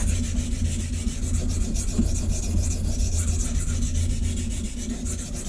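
Steel blade rubbed back and forth on a Norton sharpening stone lubricated with mineral oil, raising a burr, making a continuous close rhythmic scraping.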